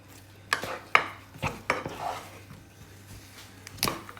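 Pomme dauphine dough being stirred quickly in a pan, a string of sharp scraping and clacking strokes of utensil against pan at irregular intervals over a faint hum.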